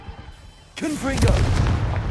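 A Confringo explosive spell blast in Hogwarts Legacy, a sudden booming burst after a quiet lead-in, followed by rumbling low-end decay, with a voice speaking over the impact.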